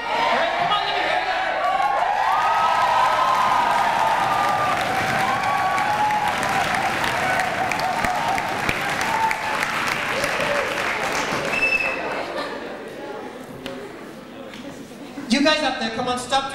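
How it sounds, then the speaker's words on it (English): A live comedy show audience claps, shouts and whoops loudly, a dense crowd roar with cheers rising over the applause before it fades and a voice speaks near the end. "You're gonna clap him and shout and scream and whoop, all right?"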